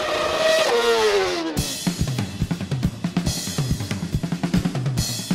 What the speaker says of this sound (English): you have to do a few burnouts to make sure that the surface of the tire is warm enough